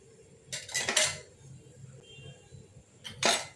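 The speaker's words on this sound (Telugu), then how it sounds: "దీన్ని ఆయిల్ వేసుకుందాం. ఆవాలు," Oil and mustard seeds go into a pan while cooking Mysore pappu with tomato: two bright metallic clatters of utensil against pan, one near the start and one near the end, over a quiet kitchen background.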